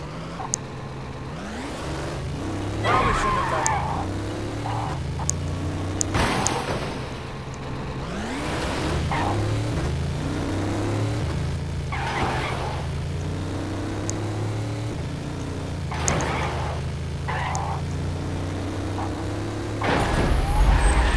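Engine of the Holiday Speedster turbo car in Gangstar Vegas drones steadily with rising and falling harmonic pitch through gear changes, joined by sharp bursts and crashes of other game effects.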